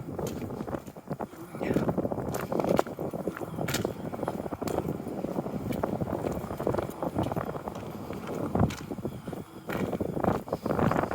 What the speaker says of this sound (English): You're going to hear this wind now because I hear it.